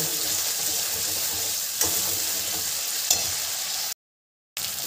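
Spice paste fries and is stirred in a pan with a steady close sizzle and occasional spoon scrapes, then cuts to a moment of silence before the frying resumes.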